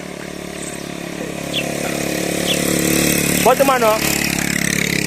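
A motorcycle engine runs steadily on a road in Haut-Nkam, Cameroon, its buzzing drone filling the background while a voice speaks briefly over it near the end.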